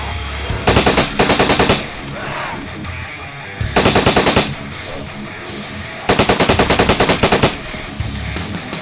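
Three loud bursts of rapid automatic gunfire in the video game DayZ, each lasting about a second, separated by quieter stretches of background noise and distant shots.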